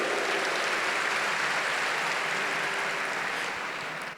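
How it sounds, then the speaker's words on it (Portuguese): A congregation at a women's month church service claps in praise, a broad, steady wash of many hands that holds evenly, then fades slightly at the end. "Você pode dar uma salva de palmas para Jesus?"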